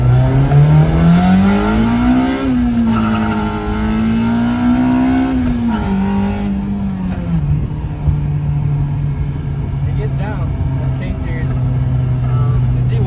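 A Honda Civic's K20Z1 engine drones loudly, its pitch rising and falling through revs before settling into a steady, rumbling hum close by.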